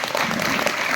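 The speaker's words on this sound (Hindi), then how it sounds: "वेरी गुड, तालियां इसके लिए।" Brisk applause fills a classroom as schoolgirls clap for a classmate who answered, a dense burst of many hands up close, lasting about a second.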